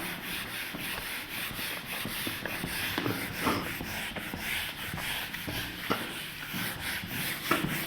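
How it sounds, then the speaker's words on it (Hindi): Someone rubs out writing on a board during a thermodynamics lecture, a close, continuous scratchy rubbing with rhythmic back-and-forth strokes and no talking. "अब एक बार ऊपर वाले को रब कर देते हैं यहाँ पर।"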